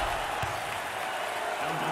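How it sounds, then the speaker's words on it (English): A crowd at a college basketball championship between Boise State and Colorado State applauds in a dense, continuous wash of clapping and cheering, steady throughout under faint talk. "The crowd appreciates their effort."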